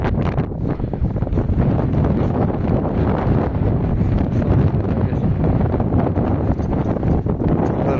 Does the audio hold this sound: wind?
yes